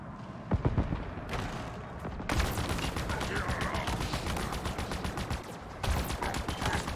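Sustained automatic gunfire in a Halo Infinite battle, a steady rattle of fast shots running through most of the stretch with louder bursts in front of background battle noise.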